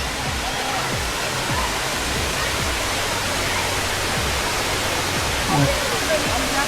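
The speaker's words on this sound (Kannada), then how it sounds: "ನೋಡಿ, ಇದೇ ಫಾಲ್ಸ್ ಕಾಣಿಸ್ತಾ ಇದೆಯಲ್ಲ." Waterfall on the Gangadikal trek in the Western Ghats, a steady broadband roar of falling water filling the scene evenly throughout, with faint voices and footsteps underneath.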